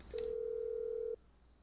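A phone call placed to set off a bomb in Grand Theft Auto V sounds as a single steady electronic tone lasting about a second, clear and unaccompanied, then stops cleanly into quiet.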